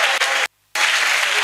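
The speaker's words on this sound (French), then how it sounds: "donne une acclamation de foi à Jésus de Nazareth." A church congregation claps in a dense, loud burst of applause that cuts off abruptly for a moment of silence and then resumes just as strongly.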